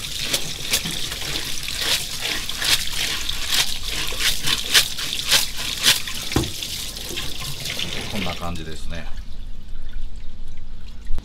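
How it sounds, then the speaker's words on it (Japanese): Tap water pours and splashes while a yellowtail is rinsed at a Tsukiji fish shop sink, loud and continuous with scraping and clatter underneath, stopping near the end. "じゃあ水洗いします。"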